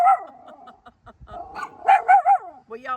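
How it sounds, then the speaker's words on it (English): A small dog, a female companion pet, barks in short sharp bursts indoors, with a cluster of louder yaps near the end; a person talks over and between the barks. "except when she's barking at people"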